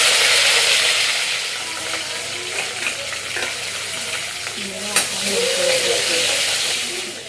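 Mustard seeds, cumin and curry leaves crackle and sizzle in hot oil in a home kitchen, giving a steady, close, broadband hiss with occasional spits and a few stirring clinks.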